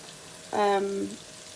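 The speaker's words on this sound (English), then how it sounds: "So the onions is still frying." Low steady hiss of onions frying in a pot runs throughout, broken by a brief loud squealing scrape about halfway through, then the sizzle carries on alone.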